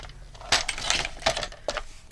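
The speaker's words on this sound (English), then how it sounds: "let's go ahead and cut that top open" A blade slicing open the top of a paper window envelope, three or four short crisp cuts and rustles close up, with no talking.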